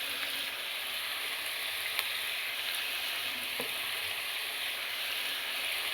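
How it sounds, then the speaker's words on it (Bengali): Potatoes and capsicum fry in a pan with a steady, even sizzle that stays soft and continuous, with a faint stirring tap or two and no voices. "এবার আলুগুলো একটু ভেজে নিচ্ছি।"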